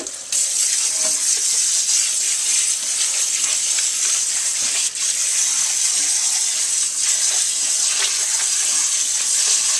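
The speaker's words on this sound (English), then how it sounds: "Alright, let's try the sprayer." Kitchen sink sprayer blasting water over whole red wheat gluten dough, a steady loud hiss of spray that runs almost unbroken throughout, with faint splashes and clatter underneath.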